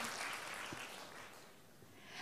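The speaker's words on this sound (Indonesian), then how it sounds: "Boleh tepuk tangan dulu." Audience applause at an Auto Sales Master Success Academy seminar in Surabaya, a steady dense wash of many hands clapping throughout, fairly soft and distant in a large room, with no speech over it.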